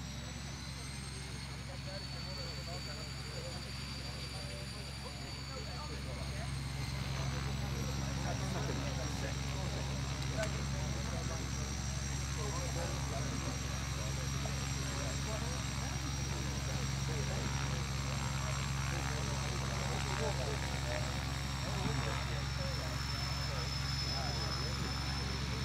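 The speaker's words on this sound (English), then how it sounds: "You can just hear those spooling up, those turbines." Twin jet turbines on a Pitts biplane fitted with jet engines spooling up, a steady loud roar with high whining tones that rises and holds, mixed with propeller engine noise.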